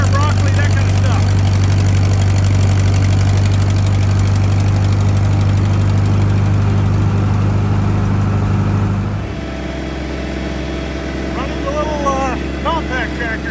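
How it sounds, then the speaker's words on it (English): A small tractor engine idles with a steady low throb, then drops to a quieter idle partway through, with voices faintly in the background. "Compact tractor here."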